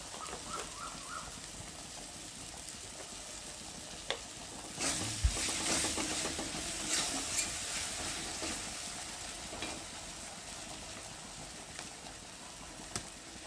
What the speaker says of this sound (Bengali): ভালো করে মশলা কষিয়ে নেবো দেব জিরের গুঁড়ো